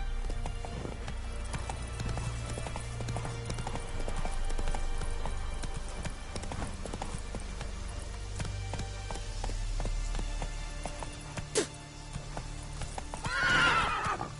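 Hooves clatter in a steady rhythm as a horse gallops in The Witcher Wild Hunt, with a whinny and faint rain-like game ambience, moderately near and fairly soft overall.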